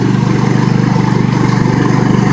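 A Craftsman ProSeries garden tractor engine running after starting right up in warm weather, a loud, close, steady low rumble with a rapid regular pulsing throb.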